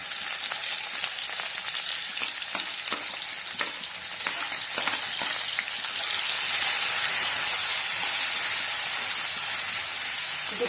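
Onions fry with bay leaf, green chilli, cloves, cardamom and cinnamon in a pan, a continuous close sizzle and hiss punctuated by scraping stirs, growing brighter and louder toward the end.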